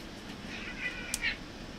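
Two or three short, faint cat meows indoors, one brief cry followed by a slightly longer one, over low room hiss with no talk.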